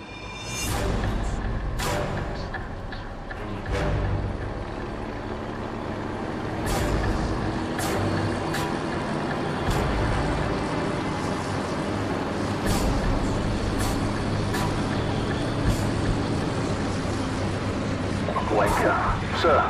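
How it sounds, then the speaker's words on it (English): Military convoy trucks approach in the video game Call of Duty 4, a continuous heavy engine rumble and road noise with sharp hissing air-brake bursts scattered throughout, moderately loud and steady. "We're tracking an enemy convoy headed your way. I count 6 vehicles in the convoy, over."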